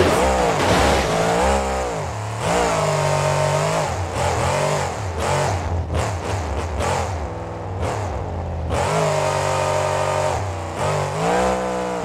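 Bounty Hunter monster truck at a Monster Jam 2020 freestyle championship, its engine revving hard in loud surging bursts with rising and falling pitch as it climbs over crushed buses, close and continuous.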